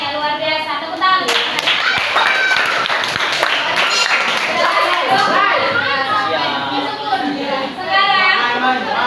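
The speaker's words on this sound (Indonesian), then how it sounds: "Tepuk tangan." A classroom group of students claps together in loud, sustained applause, with children's voices chattering and calling over the clapping throughout.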